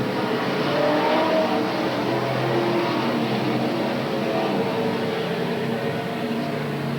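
Race cars at Willamette Speedway in 1987 roar continuously at close range, a dense, loud engine drone with rising and falling revs that runs the whole time without talk.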